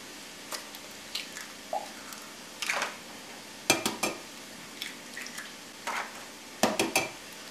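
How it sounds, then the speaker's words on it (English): Four eggs are cracked and dropped into a bowl, giving a series of sharp taps and wet plops with brief pauses between them, close and clear. "So we're gonna put 4 eggs into a bowl."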